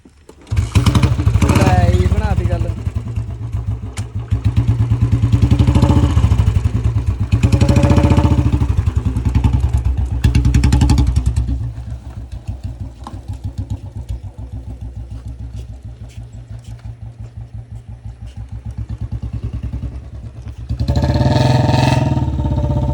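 A Bullet motorcycle's engine is kick-started and then thumps steadily at idle, loud and close, with people talking over it throughout.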